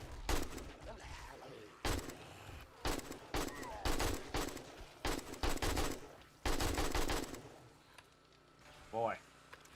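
Gunfire from the video game 7 Days to Die, a series of sharp automatic bursts and single shots spread across the stretch, loud and close, with a player talking between them.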